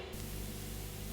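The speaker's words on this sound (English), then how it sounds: "just the white noise" Synthesized white noise with parts of its EQ cut away, a flat steady hiss that switches on after a brief moment and then holds evenly, alone with no voices.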